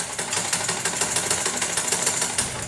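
A sewing machine runs a steady, rapid stitching rattle through a lined blouse sleeve at the shoulder, close and continuous with no pauses.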